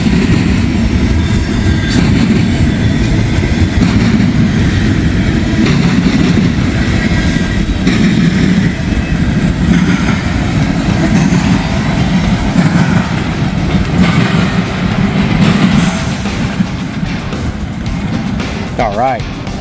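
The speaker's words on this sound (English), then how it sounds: "Noise you hear is the train hitting the diamond there." A freight train rolls continuously and loudly nearby, its wheels clattering over a railroad diamond crossing on a line toward Toledo, a dense rumbling roar with rhythmic clicking running throughout.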